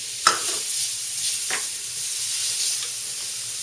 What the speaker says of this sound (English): we're going to saute our diced onion.